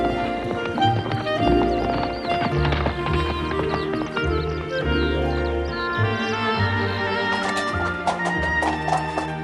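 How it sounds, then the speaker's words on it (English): Horse hooves clip-clop along with a whinny, set against a busy bed of music and background sound. "Jolly good horse."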